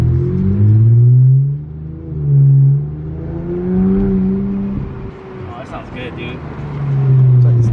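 A turbocharged Nissan 350Z with a cut-up stock exhaust revs repeatedly, rising and falling in loud surging waves, heard close up with a rough exhaust note.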